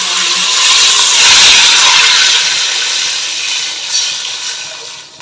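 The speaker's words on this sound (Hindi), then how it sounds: "साथ ही मैं इसमें 4 गिलास पानी शामिल कर रही हूँ।" Four glasses of water pour steadily into a cooking pot with a broad splashing hiss that swells and then gradually fades, with no talking.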